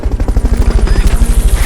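A Fulton recovery helicopter in the Metal Gear Solid Peace Walker video game thumps with a loud, rapid rotor chop that beats steadily and close up, heard alone.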